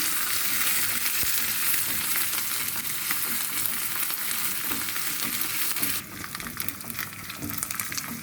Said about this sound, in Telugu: ఇప్పుడు దీన్ని కూడా పోపులో పచ్చివాసన పోయేదాకా వేగిద్దాము